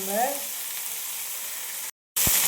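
Leafy greens hitting a hot pan for an Indian keerai kootu, with a steady broadband sizzle and frying hiss running for about two seconds, a brief cut, then the sizzle resuming strongly along with a faint tonal bit of voice early on.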